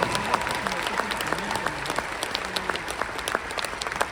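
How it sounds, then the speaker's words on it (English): A crowd claps along at a motivational gathering, a dense, steady wash of hand claps with some sharper individual claps, continuous and fairly loud throughout. "Come on, clap your hands."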